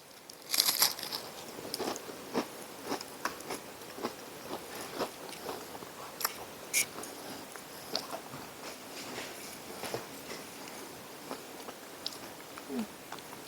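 Someone chews an Apack emergency ready meal with sunflower butter, close crunchy bites and steady mastication repeating in an irregular rhythm for over ten seconds, with no talking.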